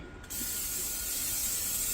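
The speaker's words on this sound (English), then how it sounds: "I'm just going to put some olive oil spray on the bottom of my pan." Olive oil cooking spray released from a can onto the bottom of a pan: one close, steady hiss that starts abruptly and holds for nearly two seconds.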